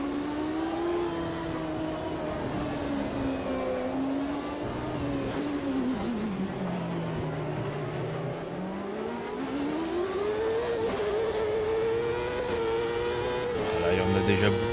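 Race cars of over 900 horsepower in Automobilista 2 scream along a street circuit; the engine note rises, dips and climbs again as the car accelerates and brakes, under continuous French commentary.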